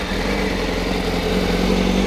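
A 2020 Honda Fireblade SP superbike idles at tick-over, a steady, loud, close engine drone with an even low pulse and no revving, alone without speech.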